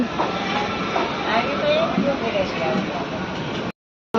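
Train rolling along the rails near a station, a steady rumbling hiss with faint clatter under a voice talking, ending in an abrupt cutoff.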